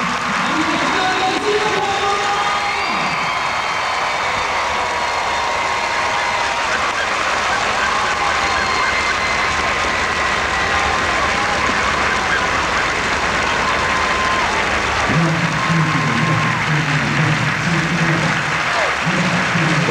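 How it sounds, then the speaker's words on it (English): A large crowd at a national day parade applauds in a loud, continuous wash of clapping that holds unbroken throughout, with a low tonal hum rising beneath it at the start and again near the end. "And a big applause from everybody."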